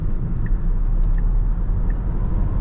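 A 2025 Tesla Model Y accelerates on a German Autobahn, heard from inside as a steady low rumble of road and wind noise with a faint electric whine, no talk.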